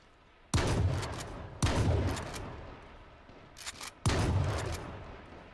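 Gunfire in the H1Z1 battle royale game: three loud, close bursts of rapid shots, each decaying over about a second, with a faint pair of softer shots between the second and third.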